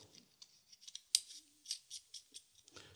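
Small plastic clip-on smartphone lens being screwed into its clip: a series of short, quiet clicking and ratcheting ticks at an uneven rhythm, with one sharper click near the middle, close and faint, no talking.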